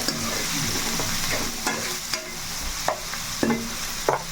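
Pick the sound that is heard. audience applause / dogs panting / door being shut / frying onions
frying onions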